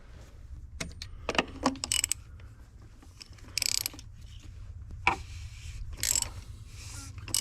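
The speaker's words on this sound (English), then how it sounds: "And that's your 33mm socket. So you loosen that up." A 33mm socket turning the oil filter housing on a 2014 VW Passat TDI, giving sparse metallic ratchet clicks and knocks spread across the stretch, close but fairly quiet with no talk.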